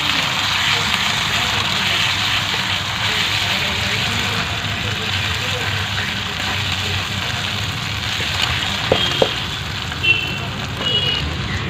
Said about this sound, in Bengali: এবারে দেওয়া হলো আদা রসুন, দিয়ে এটাকে সুন্দর করে নাড়াচাড়া করতে হবে।